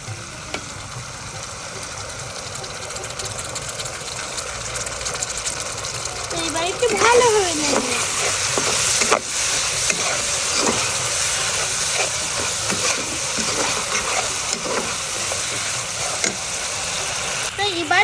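Onion and chili sizzle and hiss steadily while frying in a pan, with stirring scrapes and a louder burst as sour yogurt is added, and someone talks over the cooking throughout.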